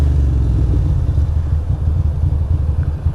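A Ducati motorcycle engine drones steadily while riding on a highway, its low rumble mixed with wind, continuous and close with no talking.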